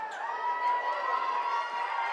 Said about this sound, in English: Raucous crowd here at that timeout.